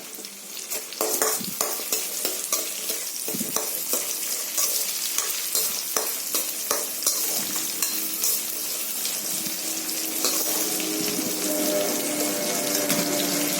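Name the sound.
sautéing shallots and garlic in oil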